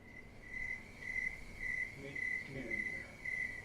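Crickets chirp in steady repeated pulses, a high trill recurring about every half second, faint and continuous, with a low background hum and no talk.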